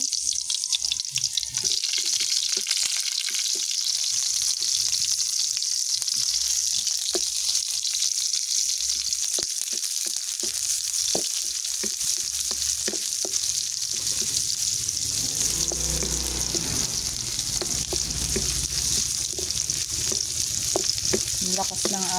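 Garlic and onion fry in a pan with a continuous bright sizzle and crackle, nearby, with stirring scrapes and a louder spattering burst partway through, and no talk.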